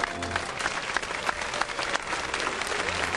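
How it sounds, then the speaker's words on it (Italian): Crowd applause in a town square, a brisk continuous patter of many hands with a few louder individual claps standing out, no talk on top. "Un applauso al nostro maestro."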